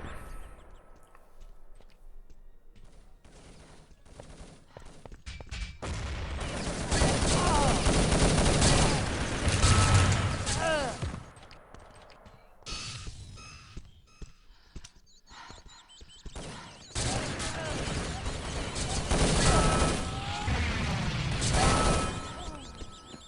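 Rapid gunfire in an Urban Zone capture-the-flag video game match comes in two long dense bursts of shots, separated by quieter stretches of rattling game effects.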